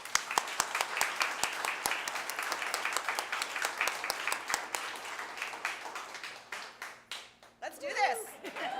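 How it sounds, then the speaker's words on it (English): A crowd at a charity campaign kick-off event claps steadily, with sharp individual claps standing out near the front, then fades as cheers and voices rise at the end. "I want to give one more round of applause to everybody here and at home and at work."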